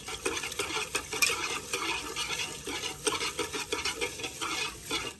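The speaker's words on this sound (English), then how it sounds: "So what I have to do is mix it up really nice." Kenyan-style rice being stirred in a cooking pot, with a steady close scraping and swishing of a spoon through the grains and a faint background sizzle, continuous and unbroken with no voices.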